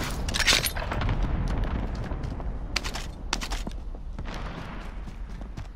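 Bursts of gunfire and booming blasts in a PlayStation 4 shooter game, several sharp cracks spread over a few seconds against a rumbling battle background, fairly close and loud.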